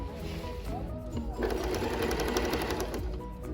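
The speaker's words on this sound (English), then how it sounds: "I'm back stitching to keep those stitches together." Sewing machine back stitching a maxi skirt seam, a close, fast mechanical whir that speeds up after a brief slower start and runs continuously.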